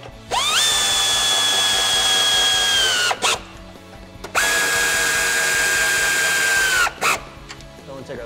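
An impact wrench with a 13 mm socket tightens rock rail bolts on a Jeep Wrangler JL two-door, in two sustained loud whirring bursts with a short pause between them.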